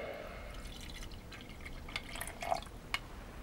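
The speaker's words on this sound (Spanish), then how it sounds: "Vamos a llenarlo de agua" Water poured into a small half-litre compact water heater, a faint trickle with scattered drips and light glassy splashes, quiet and close.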